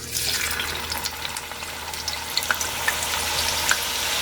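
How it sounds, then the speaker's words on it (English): French fries sizzle in hot oil, a steady bubbling hiss with scattered sharp pops and crackles throughout. "As y'all see, my oil is getting hot. Okay, let me put a fry here."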